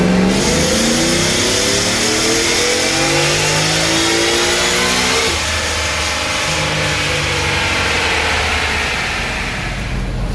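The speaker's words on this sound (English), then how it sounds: "We're going to keep making a couple more pulls" A tuned 2018 Shelby F-150 revs hard on a dyno, its engine note climbing loud and close through a full pull, then easing back toward a lower steady drone.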